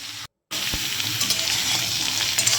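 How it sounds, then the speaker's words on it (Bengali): Vegetables and spices with bay leaf, dried red chillies and five-spice seeds frying in a pan for shukto, a steady loud sizzle broken by a brief silent gap near the start, then continuous crackling. "দিয়ে আমি সবজি এবং মশলাটাকে ভালোভাবে ভাজবো।"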